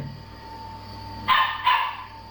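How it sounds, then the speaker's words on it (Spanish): A pet dog gives two quick barks, fairly near, standing out over a steady background hum while someone works through network configuration. "Otra vez mi perro."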